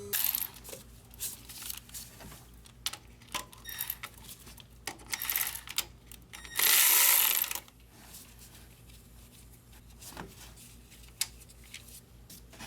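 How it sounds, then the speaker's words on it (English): A ratchet working on the bolts that hold the boost pressure actuator to the turbo of a Mercedes / Dodge Sprinter, heard as scattered, close metallic clicks and clatter with one brief louder burst. "we're gonna have to undo 3 bolts back here that hold the actuator on the turbo"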